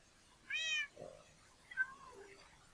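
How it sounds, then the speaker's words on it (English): A cat in Minecraft gives a clear, fairly close meow, followed by a softer, lower second cat call against near silence. "Raining. Cats. Meow."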